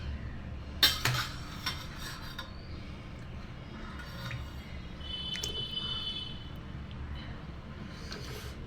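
Chicken pieces go into a pot for chicken biryani, landing with a brief, fairly loud clatter and wet thud near the start, followed by quiet, steady cooking noise and faint scraping with no talk.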